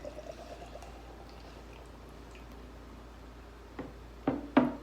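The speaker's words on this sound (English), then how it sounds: "let's go ahead and pour out the old Busch Light here." Busch Light beer being poured out, a quiet fizzing trickle rising to a few louder splashing bursts near the end, with no talk.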